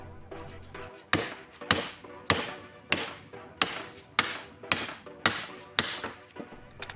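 Sharp hammer knocks drive the end of a metal suspension bushing in during a BMW E53 4.8is overhaul, about ten evenly spaced close, loud strikes, each ringing briefly before the next.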